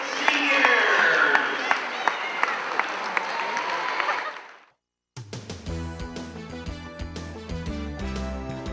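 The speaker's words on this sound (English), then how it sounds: "if we all can have a nice round of applause, maybe a standing ovation for our graduating seniors" Crowd in the Mark T. Sheehan Gymnasium in Wallingford, Connecticut, applauds graduating seniors at a 2008 girls' high school basketball game. Loud, sustained clapping fades out after about four seconds, then music starts.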